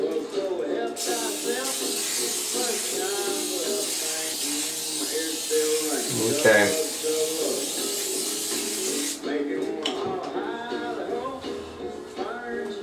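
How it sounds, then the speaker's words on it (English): A steady hiss of aerosol cooking spray runs for about eight seconds while people keep talking over it, then stops. "May I recommend a little bit of cooking spray?"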